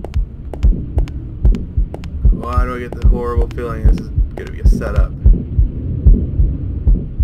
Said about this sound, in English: That heartbeat's not helping any.